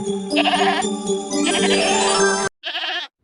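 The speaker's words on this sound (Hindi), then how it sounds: "अरे, यह तो बकरी के चिल्लाने की आवाज है" A goat bleats loudly and close by: one long, wavering cry, then a shorter call after a brief pause.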